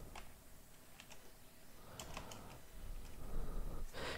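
Light typing on a computer keyboard while entering a material search in Revit, a few quiet clicks and short key bursts at close range over low room noise.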